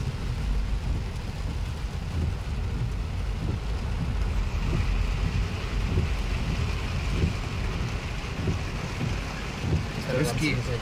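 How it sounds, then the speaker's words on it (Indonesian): Heavy rain drums steadily on a moving car during a drive from Pangkajene Sidrap to Maros, a dense, constant roar mixed with road and engine noise. "Kita sampai di saat hujan deras."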